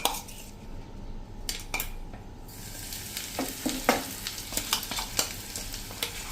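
Ginger-chili paste hits hot oil in a pan, a bright sizzle followed by irregular metallic scrapes and clinks of a spoon stirring against the pan, close and clear without speech.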